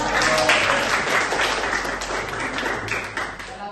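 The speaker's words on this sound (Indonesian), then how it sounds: "Aplaus untuk kelompok" A classroom audience claps for a group that has just finished presenting a lesson, a dense, continuous burst of applause heard close and steady for a few seconds.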